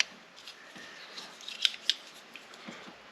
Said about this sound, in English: So I'm just going to cut some of this factory Tessa tape back.